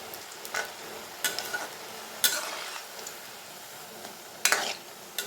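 Cauliflower pakoda frying in oil over a medium flame, a soft steady sizzle with occasional sharper crackles and spatters breaking through at irregular intervals, with no talking.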